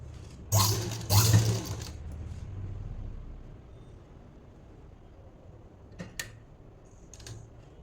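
Sewing machine stitching the shoulder seam of a blouse, with a loud close whirring burst at the start, then a quieter mechanical hum and a few light clicks, no voices.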